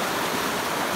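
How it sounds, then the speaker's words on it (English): Steady creek water rushing and babbling close by, a continuous broadband wash with no breaks, heard while walking up a creek bed on a solo overnight hike from Lost World to Rat A Tat Hut. "don't have to carry too much water because I'm walking right up the creek"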